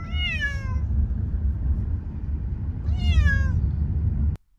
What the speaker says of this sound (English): We got to listen to the cats meowing in stereo the whole way there.